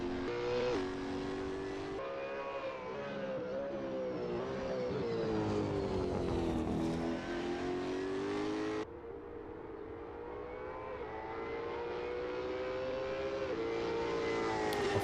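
V8 race cars lapping a track in an Assetto Corsa championship round at Barbagallo, loud engines revving up and down through gear changes with a sharp shift partway through and no talk.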